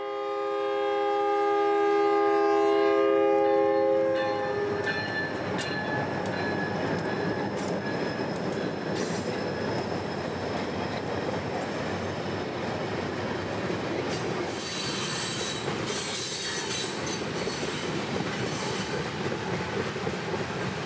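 A train passes near an I-95 embankment in Fort Pierce, South Florida, opening with a loud sustained horn blast, then a long rumbling roll of wheels and railcars with metallic squeals, heard close and steady.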